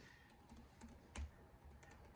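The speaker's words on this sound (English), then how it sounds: "Let me see if I could type it up." Keys on a computer keyboard tapped in a few quiet, scattered strokes, with one slightly louder press in the middle, over a low room hum.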